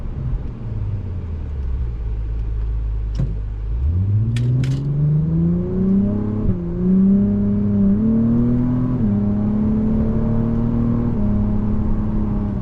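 2025 Acura TLX Type S with 355 horsepower idling with a low rumble, then accelerating hard off the line, engine note rising steadily through several gear shifts, heard loud and close from inside.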